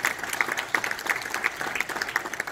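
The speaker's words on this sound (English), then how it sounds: "I think they deserve a round of applause." An audience at an airline pilots' regional meeting in Kuala Lumpur gives a round of applause for a group of speakers, dense and fairly loud clapping with a few distinct sharp claps popping out at regular intervals.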